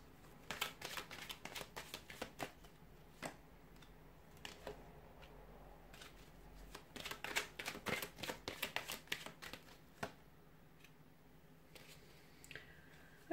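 Tarot cards are handled and drawn in a run of soft, close flicks, snaps and slides coming in irregular clusters, faint and quiet overall with short pauses between them.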